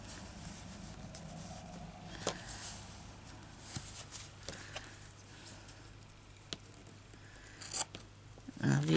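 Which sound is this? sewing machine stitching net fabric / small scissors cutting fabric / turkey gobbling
small scissors cutting fabric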